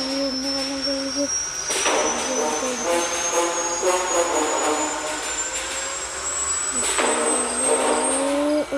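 Helicopter taking off in the horror video game Granny gives a rising whining turbine tone over a steady engine drone, with someone talking over it.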